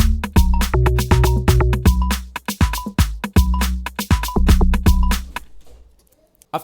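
An afrobeats drum pattern with all parts playing together, with punchy kicks, snappy hits and tonal percussion in a steady repeating groove, loud and close, stopping abruptly near the end.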